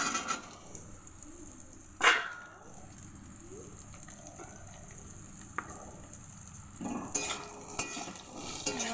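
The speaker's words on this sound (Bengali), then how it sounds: "এবার দিয়ে দেবো ডুমো করে কেটে রাখা আলুগুলো" A sharp clatter as diced potatoes drop into a pan of frying onions, followed by a soft steady sizzle and occasional scraping of a spatula against metal.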